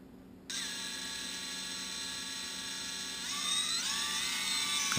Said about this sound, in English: You can kind of hear the motors ring a little as they switch.